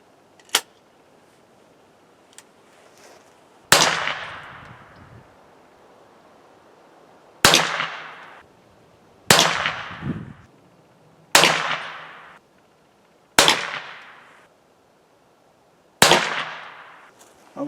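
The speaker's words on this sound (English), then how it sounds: "I put up another improvised target, and we're going to try 5 rounds at it." A series of sharp, loud .22 rimfire shots fired from a 16 gauge drilling gun at a target outdoors, each crack followed by a short echoing decay, spaced roughly two seconds apart with quiet between.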